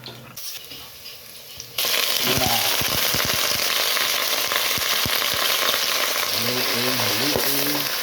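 Garlic hits hot oil and bursts into a loud, close, continuous sizzle for sautéing, with scattered pops and spatula taps through the frying.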